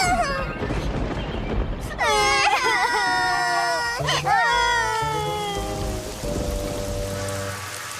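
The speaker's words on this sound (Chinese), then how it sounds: "下雨了！" Rain falls steadily through a cartoon scene, a soft wash of drops running under animated voices and high, whimpering, cry-like character sounds for the whole stretch.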